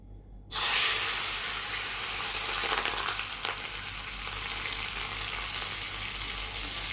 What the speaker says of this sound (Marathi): हे गरम झालेलं तेल आपण काय करूया ह्याच्यात टाकून घेऊया